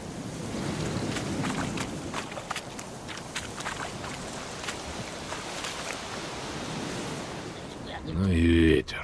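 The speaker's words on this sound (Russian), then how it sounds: "Ну и ветер." Wind blows steadily across an outdoor scene in The Witcher 3: Wild Hunt, a broad, unbroken rushing hiss that holds for several seconds before a brief, sharper surge near the end.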